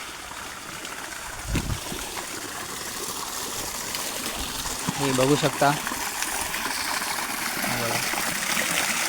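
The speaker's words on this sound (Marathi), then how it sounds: "हा आपला मोठा टँक आहे, हे टँक आहे मोठं, याच्यामध्ये पाणी ओव्हरफ्लो होतं" A large water tank overflows, and the water keeps up a steady rushing trickle nearby while someone talks over it.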